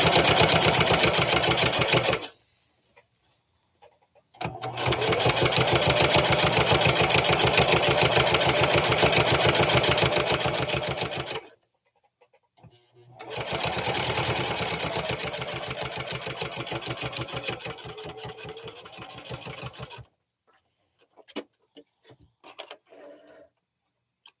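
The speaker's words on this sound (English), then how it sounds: "get on one of my big machines to do it, my industrial" An industrial sewing machine runs loud and close in two long, even stitching bursts separated by a pause, then stops, leaving scattered small handling noises.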